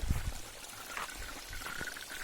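Irrigation water from a surge irrigation system pours and trickles quietly in a steady stream, faint and somewhat distant, with light background noise.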